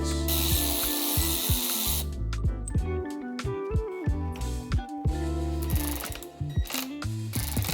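A 10mm socket wrench reinstalls motorcycle handlebars on a Sur-Ron Ultra Bee's Warp 9 vibration-dampening mount, with close, rapid ratcheting clicks and metallic scraping in irregular bursts.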